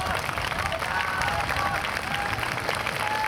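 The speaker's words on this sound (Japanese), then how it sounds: "とにかくこの2人に拍手をお願いします。" Applause from an audience at a university pro-wrestling club's main event during a campus festival fills the space with dense, continuous clapping, fairly distant and steady, with crowd noise mixed in.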